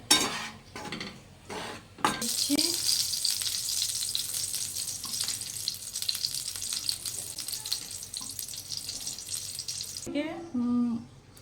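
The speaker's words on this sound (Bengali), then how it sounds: "ঘি দিয়ে ছাতুটা ভেজে নিচ্ছি" Sattu flour frying in ghee in a kadai, a steady close sizzle with light scraping of a utensil; a few knocks and clatter come before, and a brief voice is heard near the end.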